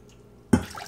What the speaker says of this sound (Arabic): هما ضفنا الكاسين ديال الماء